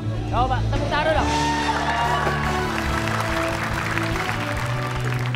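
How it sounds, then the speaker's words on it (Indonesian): A studio audience at an Indonesian TV comedy show claps and cheers, with crowd noise, shouts and voices rising over steady applause throughout. "Coba, tepuk tangan dong."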